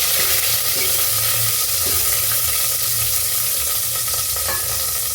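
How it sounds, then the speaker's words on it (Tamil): A continuous sizzle of spices, including black peppercorns, frying in a pan, with faint stirring scrapes now and then, close and steady, no voices. "இது இப்போ நல்லா வறுத்துக்கலாம்."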